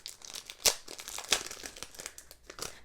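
Thin foil sheets for papercraft crinkle and crackle as they are handled up close, with a few sharper crisp bursts among continuous rustling and no talk.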